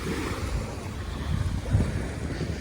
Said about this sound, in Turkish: Burası kaldığımız otelin beach'i.